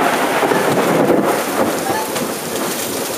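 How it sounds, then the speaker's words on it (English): Heavy rain pours down steadily during a severe thunderstorm, a dense continuous hiss with low rumbling beneath it, loud and close throughout with no break. "Finally, a good storm."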